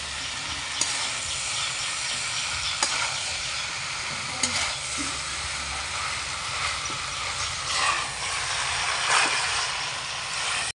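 Street-cart style chowmein sizzles loudly in a hot kadhai, a continuous frying hiss broken by occasional scrapes and clanks of the spatula against the metal, close up and with no talking.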